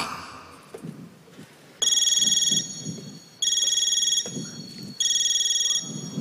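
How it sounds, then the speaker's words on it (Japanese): A phone ringtone sounds in three repeated electronic bursts, loud and bright, with a low rumble like rain between the rings. "この日もマリカに 電話してみること"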